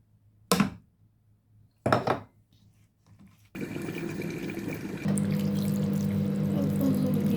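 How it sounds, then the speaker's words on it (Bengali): Water is poured into a pot of meat curry with blended and ground spices, a steady pouring and filling sound that runs continuously for several seconds and grows fuller toward the end, preceded by a couple of brief clatters. "অল্প জল দিয়ে নিব আর দুইটা আলু দিয়ে নিব"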